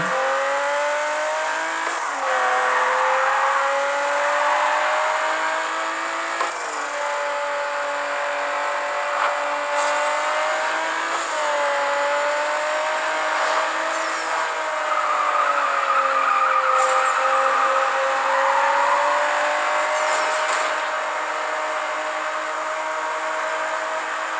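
Race car engine in the Need for Speed No Limits mobile game, a loud sustained revving whine that climbs and drops in pitch through repeated gear shifts, with no talk over it.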